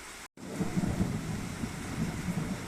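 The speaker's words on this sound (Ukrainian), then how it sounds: "Вже знову гримить і блискає." A thunderstorm with heavy rain, a steady dense wash of rainfall and low rumbling thunder rolling through, broken by a brief dropout near the start.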